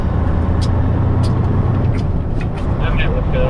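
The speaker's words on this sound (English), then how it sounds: "This truck is very noisy on the highway" Loud, constant road roar inside a semi-truck cab at highway speed near Winnipeg, with low rumble and occasional brief hissing whooshes over the drone.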